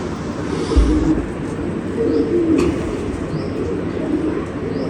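A racing pigeon coos in soft, low, repeated bubbling calls, close by over a steady background hiss, with no talking.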